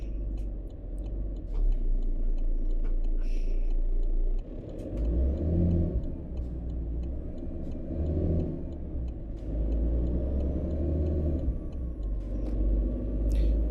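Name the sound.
truck engine in a video game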